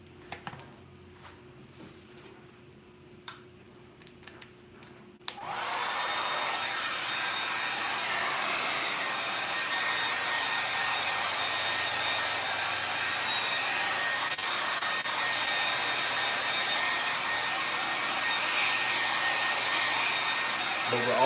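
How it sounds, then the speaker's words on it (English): A few quiet knocks and handling sounds, then a hair dryer switches on and blows with a loud, steady whooshing roar until the end, drying and spreading paint in a basement. "I'm gonna take a hair dryer and I'm gonna dry this a little bit."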